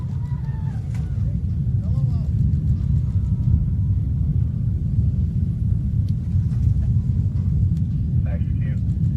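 A SpaceX Falcon 9 rocket climbing during a Starlink launch, heard from afar. Its engines give a deep, continuous, thunder-like rumble that holds steady throughout, with faint voices and other small sounds on top.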